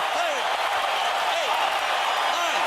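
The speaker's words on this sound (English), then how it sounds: "That's the biggest moment of the night for the crowd. They're going wild." Boxing arena crowd at Staples Center roaring wildly after a knockout, a dense continuous wash of cheering and shouting with a few rising whistles cutting through the steady noise.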